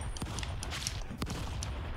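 Gunfire from the Stick Fight video game on a spike-ball map, a few sharp shots popping over a steady busy game din, with no talking.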